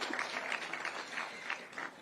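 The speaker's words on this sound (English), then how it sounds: "Let's clap for the learners." Audience of learners clapping at a school visit in Nairobi, a steady wash of applause with scattered individual claps, fairly close and sustained throughout.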